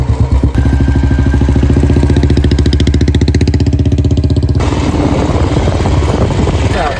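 A Royal Enfield motorcycle engine idles close by with a loud, rapid, even thumping beat that holds steady before the sound shifts into rougher, noisier rumble near the end.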